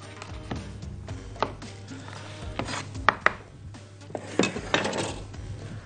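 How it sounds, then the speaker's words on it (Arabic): A kitchen knife slices garlic cloves into thin rings on a board for a chicken tagine, giving a series of crisp, close chopping taps in an irregular rhythm with occasional light clinks of utensils. "بص بقى الثوم الشرايح لما نيجي نقطعه اهو، قطعيه حلقات افضل من انت تفرميه"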